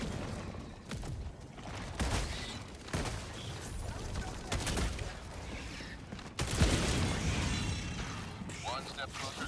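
Automatic weapon fire in a video game, bursts of shots rattling in and out over a busy mix of game effects and a talking voice, with a sharper loud blast partway through.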